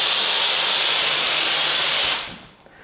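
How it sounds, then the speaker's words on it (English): Steam hisses hard and steadily from a BrewSteam 12-inch steam injection manifold running dry without water, loud and close, then cuts off and fades to quiet near the end. "show you without the water what the steam is actually doing"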